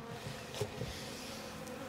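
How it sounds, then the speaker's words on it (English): A honeybee swarm, mostly contained in a box, buzzes faintly in a low, droning hum, with a couple of individual bees briefly passing closer. "these bees are now contained in this box with the exception of the handful"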